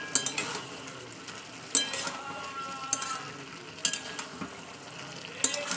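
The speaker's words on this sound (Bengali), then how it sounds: "মশলার সঙ্গে সবজিটাকে ভালো করে কষিয়ে নেবো।" Vegetables sautéed with spices in a frying pan for a Bengali fish curry with beans and potatoes: steady sizzling with repeated sharp scrapes and clinks of a spatula stirring, close and alone.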